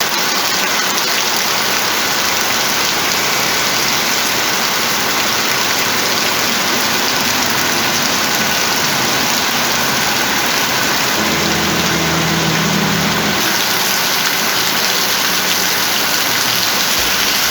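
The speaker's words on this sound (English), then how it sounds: "It took almost 1 hour for the rain to stop." Steady, heavy rain drums on a shed roof nearby, a dense continuous hiss with a low rumble swelling briefly partway through.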